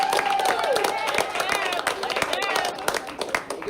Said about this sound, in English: Please give a round of applause to Deb Talexon.